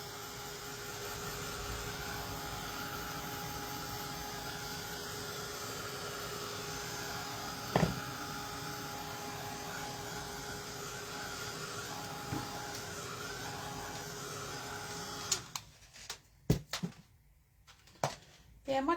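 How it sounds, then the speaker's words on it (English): A handheld heat gun blows hot air in a steady, loud whoosh for about fifteen seconds during live crafting, with a couple of faint knocks, before cutting off into near quiet with scattered taps and clicks. "I might just grab the heat gun and just give it a quick waft"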